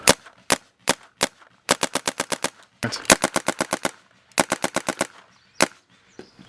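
Airsoft gun fired through a 32 Degrees Whisper barrel for chronograph readings, sharp close shots in single pops and rapid bursts of five to seven, with brief pauses between strings.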